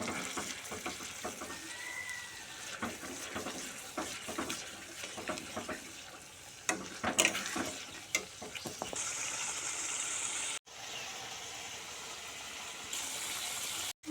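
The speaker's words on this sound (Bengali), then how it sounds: "আমি সম্পূর্ণ মশলাটা ভালো করে কষিয়ে নিব তেলের সঙ্গে।" Spice paste frying in oil in a pan for a homestyle chicken curry, a continuous sizzle broken by scraping and stirring knocks, with a few brief louder clatters near the end.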